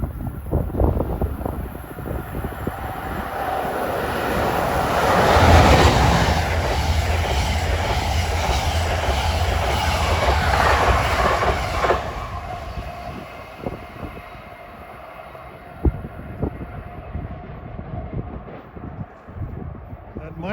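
A fast train races through Rahway station, a broad roar that swells near its peak and then fades, with a voice talking briefly over the rumble.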